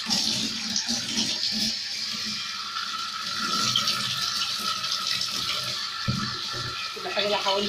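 A kitchen faucet runs steadily while raw chicken is washed at the sink, the hiss of water continuous and fairly close, with someone talking over it.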